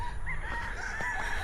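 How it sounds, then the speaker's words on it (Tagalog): Roosters crow near a chicken shelter in Bacolod: one short, close crowing call over a steady outdoor background, with no talk. "naririnig naman natin yung mga tilaok ng manok"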